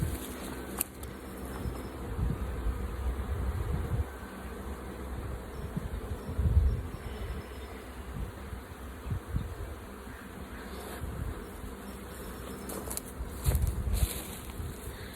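Honey bees buzz steadily around a beehive frame filling with nectar and capped honey, a dense close hum with a few louder swells as bees pass near, and no voices.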